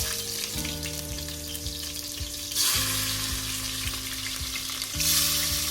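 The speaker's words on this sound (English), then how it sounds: "I let the onions fry with the raw spices until the color changes to a slight brownish color." Onions fry with cinnamon sticks, cumin seeds, anise and mustard seeds in hot oil for a rabbit curry, a steady close sizzle with soft stirring scrapes and bursts of brighter crackle.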